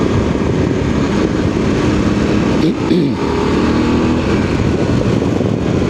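Motorcycle engine pulling hard at full throttle on a road, a steady loud broadband roar with a brief rising sweep midway, heard close throughout.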